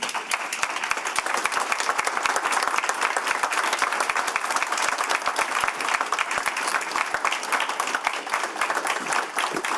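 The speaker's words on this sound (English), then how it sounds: "Please join me in giving them a well-deserved round of applause." Sustained, dense applause from an assembled audience at a committee meeting honoring award recipients, loud and steady throughout with many individual claps audible.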